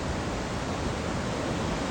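Flooded Bersham Waterfall in Wrexham pours during Storm Darragh, a loud, steady, close roar of rushing water filling the whole clip with no break.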